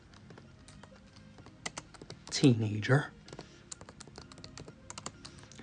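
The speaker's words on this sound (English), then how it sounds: "I'm typing fast" Rapid clicky typing on a computer keyboard, close and fairly quiet, with irregular bursts of keystrokes throughout while someone speaks briefly over it.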